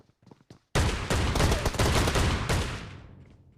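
A shotgun fired in a video game: a loud, dense blast erupts after a few quiet clicks, roars heavily for about two seconds, then tails off.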